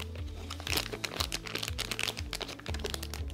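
Plastic bag wrapping around a PRP blood collection tube crinkles and crackles as it is torn open, a close, busy run of sharp rustles.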